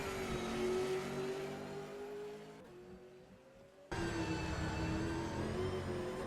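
A V8 Supercar engine revs hard as the car accelerates on a race track, a loud, rising engine note with a brief lift before the throttle snaps back open.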